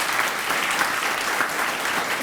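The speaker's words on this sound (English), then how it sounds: "I just want to give you a big round of applause because we appreciate you being here." Thick, sustained applause fills a room at a volunteer awards gathering as the crowd honors a chapel volunteer, many hands clapping at once with no talk on top.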